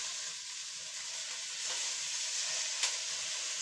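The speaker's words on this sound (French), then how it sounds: "On pose la viande sur le côté le plus gras." Meat laid fat side down in a hot pan for a tajine made without a tajine dish, giving a steady, moderately loud broadband sizzle that holds evenly throughout with a couple of brief crackles.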